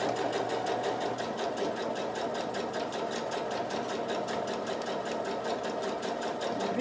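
A domestic sewing machine stitching fabric at a steady, fast rhythmic whir for the whole stretch, moderately close, with no talking.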